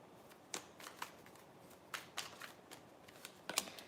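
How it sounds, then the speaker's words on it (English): Tarot cards being shuffled and laid down on a surface, a quiet series of soft, crisp flicks and taps at irregular intervals, close and faint, with no talking. "let me go ahead and start throwing cards down"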